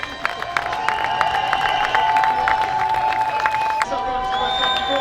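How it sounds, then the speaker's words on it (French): An outdoor crowd at a French endurance racing championship at Paul Ricard applauds and cheers for the podium, with clapping and whoops, a sustained tone and a voice over a loudspeaker. "messieurs, dames, sous vos applaudissements"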